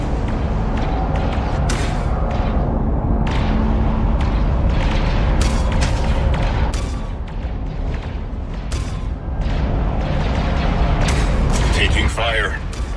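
Enemy blaster fire crackles in Star Wars Outlaws, a dense barrage of sharp bursting shots and booms over a constant loud engine roar, with voices talking through the chaos.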